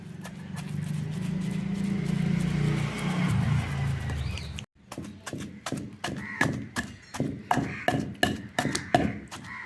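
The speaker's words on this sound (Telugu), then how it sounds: "ఇప్పుడు ఎల్లిపాయను జీలకర్ర వేసుకుందాం వేసుకుని మెత్తగా దంచుకుందాం" Garlic and cumin pounded in a stone mortar for a village-style urad dal and tamarind chutney, a steady series of close, loud, rhythmic thuds after a brief stretch of clatter and background noise.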